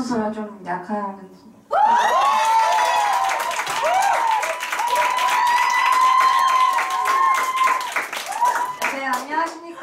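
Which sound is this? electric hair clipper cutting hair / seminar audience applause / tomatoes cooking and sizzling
seminar audience applause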